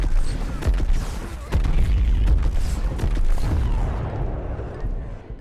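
Rapid gunshots and booming blasts crack repeatedly in a Plants vs. Zombies Garden Warfare online match, loud bursts over a rumbling battle that thins out toward the end.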